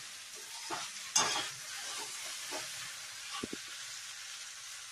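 Okra is stir-fried in a pan, giving a steady sizzle and hiss broken by a few scraping stirs of the spatula, close and continuous, with no voices.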